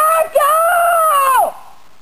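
People scream inside Minnetonka Cave in Idaho, a loud sustained wailing yell that briefly breaks, then holds a long tonal shriek before cutting off into a decaying echo.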